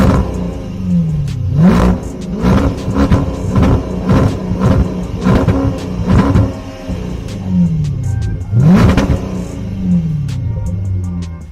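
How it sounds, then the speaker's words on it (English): A Range Rover fitted with a Quicksilver exhaust revs repeatedly in loud, deep bursts, its howl rising and falling in pitch across several throttle blips over a steady rumbling idle. "I'm used to that Range Rover Quicksilver exhaust howl from the exhaust. It's really loud, it's deep, it's powerful,"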